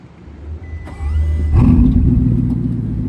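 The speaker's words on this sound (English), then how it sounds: "The Bugatti Rumble." A Bugatti Mistral hypercar driving through a downtown street, its engine rumbling low and steady, swelling louder as it picks up revs and holding a deep drone close by.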